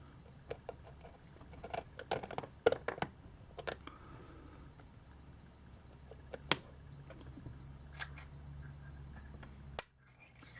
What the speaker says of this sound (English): So far this Allen key is working out okay. I don't feel like it's going to strip these screws.